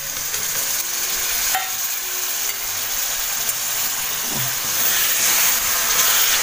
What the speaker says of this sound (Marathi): दही टाकून झाल्यावर चांगलं असं तेल सुटेपर्यंत आपल्याला ना परतून घ्यायचे.